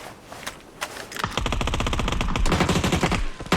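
Rapid automatic gunfire in the mobile battle royale game PUBG Mobile, a dense burst of shots rattling on continuously for a few seconds after a brief quieter lead-in, loud and close.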